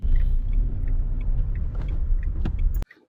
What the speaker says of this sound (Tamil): இப்போ நம்ம ஃபர்ஸ்ட் கியர் போட்டாச்சு ஹேண்ட் பிரேக்கை டவுன் பண்ணியாச்சு